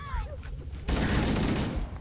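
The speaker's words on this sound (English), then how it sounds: "The plasma grenade sound is very scary." Plasma grenade going off in Halo: Combat Evolved, a sudden loud burst after a brief moment of quieter game sound, the blast's crackling roar holding steady to the end.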